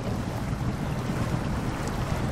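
A GMC Stepside truck on 44-inch tires ploughs into deep water in SnowRunner, a steady broadband rushing and churning wash with a low rumble running unbroken and fairly loud throughout.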